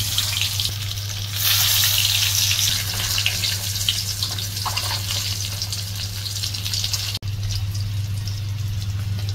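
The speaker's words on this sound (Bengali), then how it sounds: "এই তো আমাদের তেল গরম হয়ে গেছে। এখন আমরা তেলের মধ্যে ডিম দিয়ে দেবো।" Eggs frying in hot oil with turmeric, a steady close sizzle that holds loud and even throughout, with a brief sharp dropout near the end, no voices.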